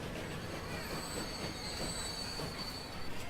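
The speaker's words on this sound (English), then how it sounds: "That train's leaving, this train's coming in." Trains arriving at and leaving a station in the Transport Fever video game, with a high, sustained wheel squeal over a steady rolling rumble, moderately loud and continuous without talk.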